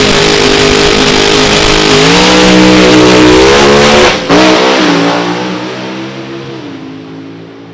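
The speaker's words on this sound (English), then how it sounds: "Roe Motors it through on and off the throttle." A Dodge Daytona-bodied drag race car on a racetrack, engine roaring loud and close as the throttle rises and dips in waves, then a sharp cut and a fading, receding drone as the car pulls away.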